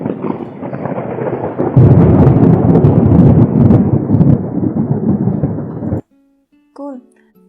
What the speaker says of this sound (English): Let's see how thunder sounds.